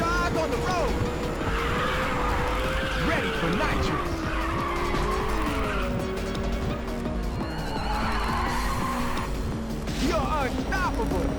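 Race car in the Ridge Racer 2 video game, engine whining as it accelerates while tires squeal and skid in long drawn-out bursts, with game music and a voice over it.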